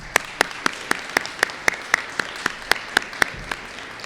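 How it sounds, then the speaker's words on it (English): At a Sunnyslope School eighth grade promotion, a school gathering applauds honorees with slow, evenly spaced claps, about a dozen sharp, distinct hits in a steady rhythm over a faint background hiss. "let's give them a round of applause"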